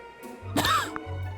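One sharp, close cough or throat-clearing burst from a character in the video game Manual Samuel, choking on water, with low hum before and after.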